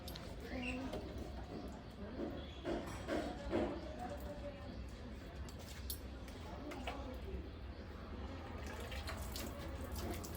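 Water sprays and splashes steadily while a scooter is washed outdoors, a soft continuous hiss with occasional drips and splatters, and people talk quietly over it.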